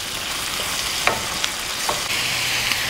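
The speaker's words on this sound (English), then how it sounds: "Finally, add your liver. Stir this for about 3 minutes." Liver frying in a pan with salt, stirred steadily for a few minutes, giving a continuous close sizzle with occasional scraping and clicking accents from the stirring, no voices.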